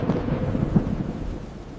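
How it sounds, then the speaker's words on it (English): Low rolling thunder of a storm gathering over a cartoon farm, a steady rumble that swells briefly near the middle before easing off, with no voices over it. "Looks like a storm is brewing!"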